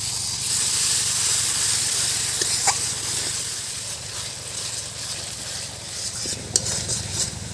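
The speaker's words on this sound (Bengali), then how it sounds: "বন্ধুরা ততক্ষণ আমরা মশলাটা কষতে থাকবো যতক্ষণ না মশলার উপরে তেল ভেসে আসে।" A spice paste of coriander, turmeric and salt with a splash of water, for a papaya and potato curry, is stirred and fried in a pan, giving a continuous close sizzle and hiss with occasional scraping from the spoon.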